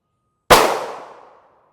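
A single sharp gunshot from a test load fired at an NIJ Level IIIA armor plate cracks loudly and close, then decays over about a second.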